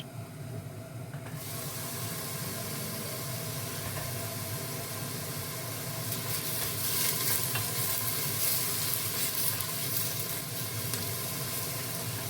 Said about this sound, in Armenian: Այստեղ էլ արդեն սոխը լավ կարմրել է, դարձել է ոսկեգույն։